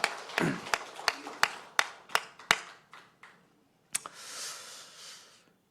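A few members of a Korean church congregation clap at a Sunday morning service, sharp separate claps that thin out and stop, then a soft rustling murmur.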